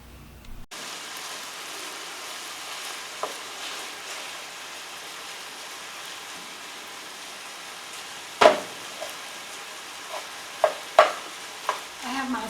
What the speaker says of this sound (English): I'm going to be browning my sausage.